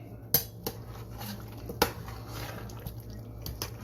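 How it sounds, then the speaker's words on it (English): Spoon clinking and scraping in a pot while Jamaican-style curry chicken with bay leaves is stirred, a few sharp metallic knocks over a low steady hum, fairly quiet and close. "Are we gonna stir that in?"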